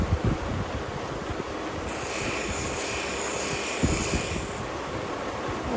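A homemade thunderegg belt polisher runs at 2,000 RPM, a steady mechanical whir and rattle, with a harsher, brighter grinding stretch in the middle as work is pressed to the belt.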